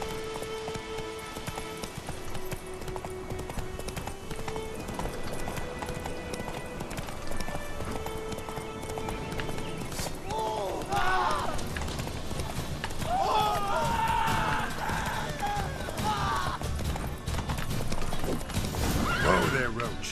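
Hooves clatter in a steady gallop over a constant soundscape in the game The Witcher 3, and a horse whinnies loudly partway through while a voice talks.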